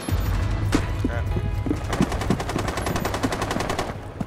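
Gunfire rattles through a Rainbow Six Siege team deathmatch bomb round on the Coastline map, rapid automatic bursts with sharp individual shots at mid distance, fairly dense and continuous throughout.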